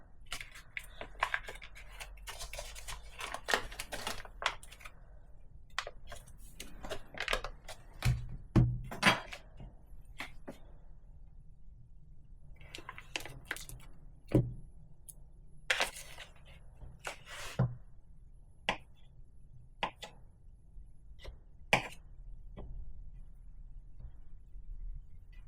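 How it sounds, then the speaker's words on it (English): Knife cutting unsalted butter into small cubes on a board, a long series of sharp, close taps and clicks spaced irregularly with quiet gaps, no talk. "I'm going to cut this into little cubes as I'm weighing it"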